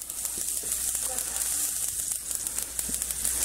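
Vegetables sizzle in a hot pan after browned short ribs come out, a steady frying hiss with small crackles and faint stirring knocks throughout.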